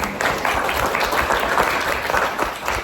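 Sustained applause from a crowd at a school arts competition announcement, dense and steady clapping filling the space at an even level throughout.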